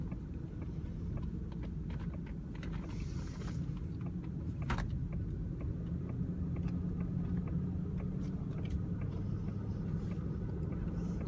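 Inside a 2005 Cadillac DeVille on the road, a steady low rumble of tyres and engine fills the cabin, continuous and moderately loud with faint passing noises above it.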